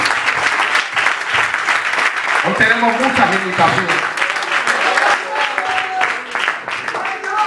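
A church congregation applauding during a Spanish-language sermon, a dense wash of clapping under the preacher's loud voice as he keeps speaking over it.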